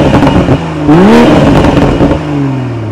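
A 2021 BMW M440i's exhaust revs up loudly and falls back, the engine note rising then sliding down into a steady drone, fairly tame with little crackle or pop.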